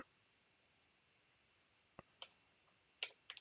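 Computer mouse clicking in quiet surroundings, a few sharp isolated clicks, one single and then a quick cluster near the end, close and crisp over faint hiss.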